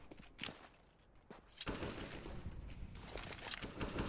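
Rapid automatic gunfire sprays through wooden boards on the Mirage map in a professional CS:GO match, with loud, dense bursts that build into sustained fire over the second half.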